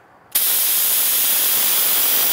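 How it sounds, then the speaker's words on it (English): A handheld disinfectant fogger bursts into a loud, steady hiss of spraying mist that starts abruptly and continues evenly, close to the microphone, with no talking. "you'll see that the fog doesn't spray a long way, so it's for close quarters"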